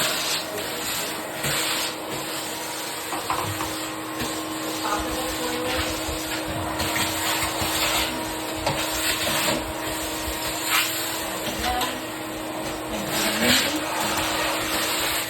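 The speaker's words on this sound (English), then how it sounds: "Vacuum all the way around." A vacuum cleaner whirs steadily close by in a bathroom with a constant hum, its pitch shifting slightly as it moves around the toilet base and floor edges, while a voice speaks briefly over it.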